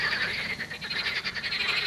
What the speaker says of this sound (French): c'est les grenouilles qu'on entend enfin.